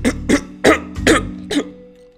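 A character in Grand Theft Auto V coughs in a run of five harsh, evenly spaced bursts, loud and close, with a faint tone lingering afterward.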